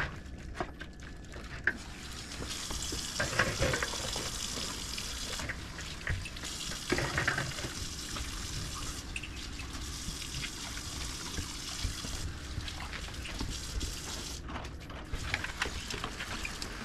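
Jar lids are washed in warm soapy water in a sink. Low, steady sloshing and splashing runs throughout, with soft clinks and handling noises scattered over the trickle.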